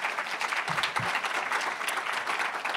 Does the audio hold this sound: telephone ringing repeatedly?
no